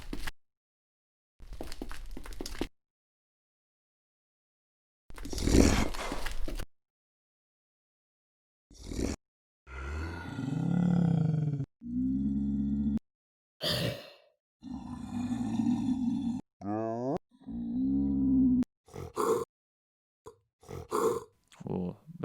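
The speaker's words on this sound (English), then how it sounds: "Ooh, that's a good monster sound." Monster roar sound effect for a creature rounding a corner in Attack the Block: a series of separate guttural grunts, breathy roars and heavy pants, some long and rasping, with silent gaps between them and no accompanying talk.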